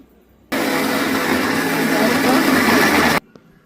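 Kitchen mixer grinder whirring loudly through a batch of spices, grated coconut, onion and coriander leaves, one continuous high-pitched motor run of about three seconds starting and stopping abruptly, with no talk over it.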